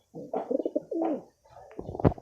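Breeder pigeons coo in a few short, soft throaty phrases, with one brief pause and a sharper flutter or call near the end, heard close up.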